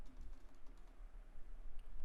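Someone types a short command on a computer keyboard. The soft, quick key clicks are faint and close, with no talking.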